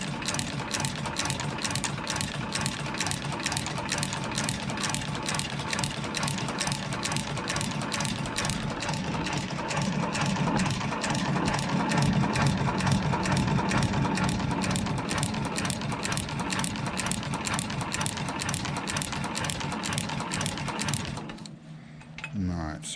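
A sewing machine stitches an elastic gusset into thigh-high suede boots, running as a steady, loud, close mechanical whir with a fast even needle rhythm for about twenty seconds before it stops.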